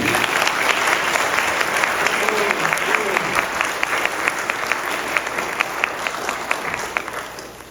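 Loud, sustained applause from an audience at a Krishna katha religious gathering in Minnesota, with dense steady clapping throughout that tapers off at the very end.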